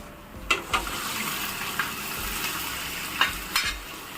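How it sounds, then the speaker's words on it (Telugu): Cooked mutton and its water tipped into a hot pan and stirred for mutton fry, food sizzling, with several sharp scraping clatters and a hiss of liquid. "ఇప్పుడు దీంట్లో ఉడికించుకున్న మటన్ని ఈ వాటర్ని కూడా వేసేస్తున్నాను"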